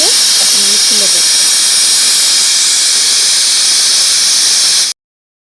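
A pressure cooker used for cooking khichuri releases steam in a loud, steady, high-pitched hiss after its whistles, with a voice briefly heard at the start before the sound stops abruptly.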